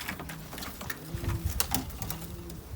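Pigeons coo nearby: soft, low, rolling calls repeating a few times over a faint background clatter.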